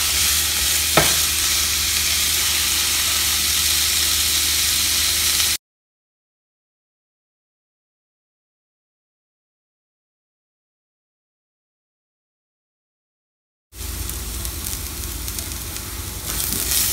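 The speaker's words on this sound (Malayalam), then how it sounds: "ഇതെല്ലാം കൂടി നന്നായിട്ടൊന്ന് വഴറ്റിയെടുക്കാം" Shallots, garlic, ginger and slit green chillies sizzle steadily in a pan for a shallot chicken dish, a continuous close frying hiss broken by a long silent gap before the sizzling returns.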